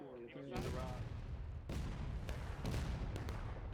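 Cannon and musket fire ring out in the War of Rights video game, with sharp repeated shots and heavy booms scattered across the clip amid battlefield noise, and a voice calls out briefly at the start.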